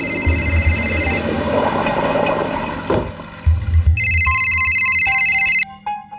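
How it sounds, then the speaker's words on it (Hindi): A mobile phone ringtone plays in repeating electronic bursts, interrupted briefly, then resumes clearly over background noise before cutting off. "देखना तेरा फोन बज रहा है।"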